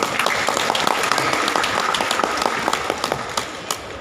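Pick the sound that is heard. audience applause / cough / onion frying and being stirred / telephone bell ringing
audience applause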